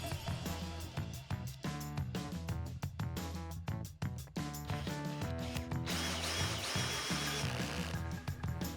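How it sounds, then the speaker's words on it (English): A power drill driving screws while a leather sleeper sofa is assembled, with repeated short whirring bursts and ratcheting clicks close by, no talking. "Someone will need to hold it while the screws are being installed."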